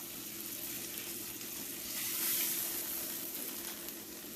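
Pork schnitzel sizzles steadily in a frying pan, a continuous close, even crackle of hot oil with a slight swell midway and no voices.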